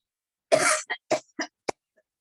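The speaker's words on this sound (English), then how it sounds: "This time you take a deep breath and cough." A single strong deliberate cough after a deep breath during a yoga session, followed by several shorter, weaker coughs and a faint throat sound, close to the microphone with no talking.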